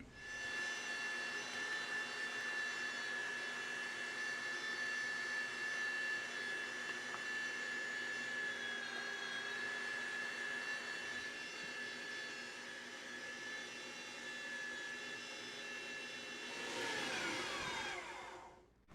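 A meat grinder whines steadily as it grinds Italian sausage meat, a sustained tonal hum with a high pitch that holds for the whole stretch and rises slightly near the end.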